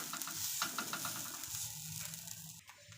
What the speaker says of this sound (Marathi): खोबरं पण बारीक गॅसवरती भाजून घ्यायचं आहे छानपैकी